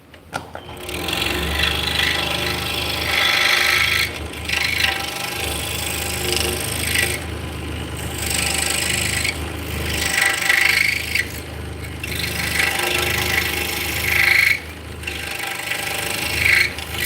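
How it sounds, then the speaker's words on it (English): Chisel or saw work cutting a mortise in wood, a steady scraping, rasping texture with rhythmic pauses roughly every few seconds, close and fairly loud with a low hum beneath. "we just cut a mortise out"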